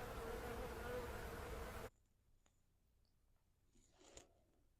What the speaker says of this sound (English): And you can hear them buzzing in the background.